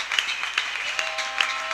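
A church congregation applauds and cheers, a scattered, moderately distant patter of claps with a few sharper hand strikes over a brief stretch.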